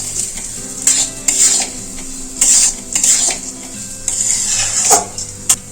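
Mung dal coated in ghee is stirred and dry-fried over low heat in a metal pan, with loud, close scrapes and clinks of the spoon at uneven intervals over a light sizzle.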